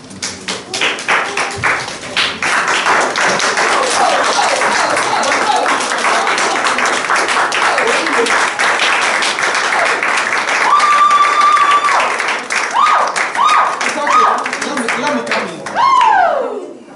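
A church congregation claps loudly and continuously for a long stretch, with a few voices calling out over the applause before it fades.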